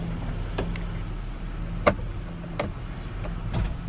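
An '07 Pilot rolls backward in reverse with the brake released, giving a low steady engine hum and a few faint mechanical clicks and taps from the car, with no talk.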